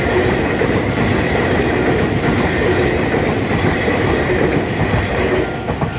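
A twelve-car Taiwan Railway EMU3000 intercity express electric multiple unit departs Qidu on the North-link Line toward Hualien, making a steady loud rumble of wheels on rails with faint clickety-clack, no voices.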